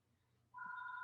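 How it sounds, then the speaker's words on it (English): A telephone starts ringing halfway through, a steady electronic tone held without pause after quiet room noise, faint and somewhat distant. "I thought I had turned that phone off"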